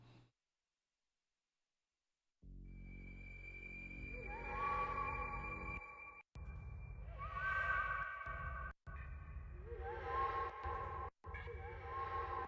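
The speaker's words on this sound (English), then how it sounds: "All I wanted for this section was a massive great texture with the sounds of the dinosaurs, of course." Pitched dinosaur roars and calls are layered into a dense trailer-music texture. After a silent opening, sustained tonal layers build, with repeated bellowing cries rising over them, broken by brief sharp cuts.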